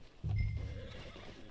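A horse whinnies once, short and fairly quiet, in the Red Dead Redemption 2 video game, with faint ambient sound around it and no talking.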